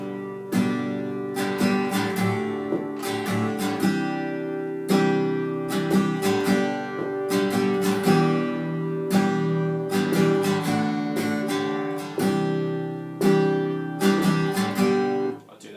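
An acoustic guitar strums a chord progression in a steady down-up rhythm, with the chords changing every few seconds; no voices.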